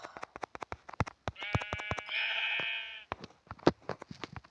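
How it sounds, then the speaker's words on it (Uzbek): Sheep bleat in a prolonged, wavering call near the middle, with a second cry following, set among quick close clicks and knocks in an otherwise quiet space. "Qo'ylar."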